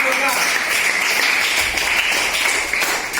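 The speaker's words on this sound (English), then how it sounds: "Give them a big round of applause." Applause from students and participants for the winning team at a school English spelling bee, a dense, steady wash of clapping that fills the whole stretch with a voice talking over it.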